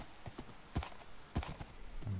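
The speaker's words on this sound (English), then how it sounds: "I'm going to go on a horse riding trip." Horse hooves clip-clop in an irregular rhythm as a horse is ridden through rain in the Minecraft video game, the steps soft and fairly faint against a steady background hiss.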